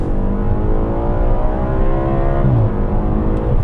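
A 2015 Audi RS5 accelerates hard after a kickdown, heard from inside the cabin. The engine holds a loud, steady drone that climbs in pitch, then a quick gear shift drops the note before it rises again.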